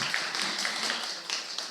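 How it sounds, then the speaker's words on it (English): A burst of applause at an Earth Day cleanup meeting in Penang, steady crowd clapping throughout, moderately loud and close. "Please give applause to Juanita and Bella."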